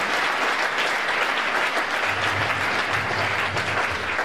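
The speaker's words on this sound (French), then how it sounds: "Acclamons le Seigneur." A church congregation applauds in sustained, dense clapping that fills the room, steady and close throughout with a low murmur underneath.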